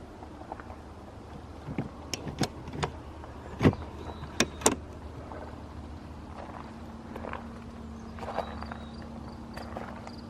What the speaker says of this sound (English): And this window slides sideways.